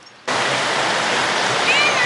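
Maltby Dyke, a river near Roche Abbey in South Yorkshire, rushes steadily and loudly, a dense continuous flow of water that starts abruptly and fills the scene.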